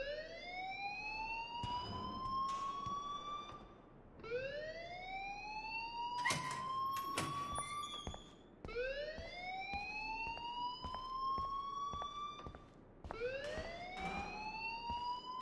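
An alarm in the Life is Strange video game wails in rising siren sweeps that repeat about every four seconds. Fainter clicks and knocks sound underneath, and no one speaks.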